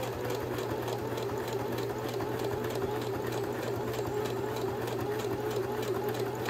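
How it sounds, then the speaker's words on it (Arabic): A sewing machine stitching slowly through five layers of fabric, a steady, even mechanical whirr with a faint rhythmic ticking, moderately quiet and continuous without speech. "ونبدأ نخيط بشويش"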